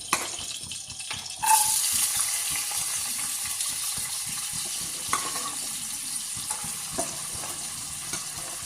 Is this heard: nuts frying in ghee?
yes